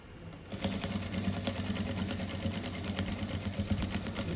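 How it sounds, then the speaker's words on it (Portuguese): A new sewing machine stitches slowly across a simple rug, giving a close, steady, rapid mechanical whirr after a brief quiet start, with no talking. "a gente consegue costurar bem devagar com ela também"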